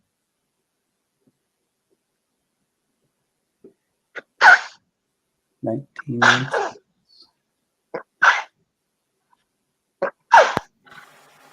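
Several sharp sneezes and sniffly bursts from a person, spaced irregularly against near silence, with a few breaths between them.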